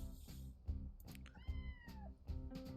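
A cat meows several times in the PC game Later Daters, with short, clear meows over soft game music.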